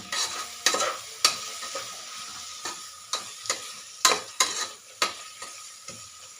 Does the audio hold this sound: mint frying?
yes